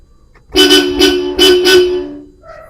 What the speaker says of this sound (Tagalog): So dito, testingin natin yung busina.